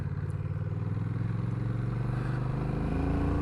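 A Honda CMX1100 Rebel DCT motorcycle rides in third gear at about 23 mph, its engine a steady, close, continuous drone with no pauses.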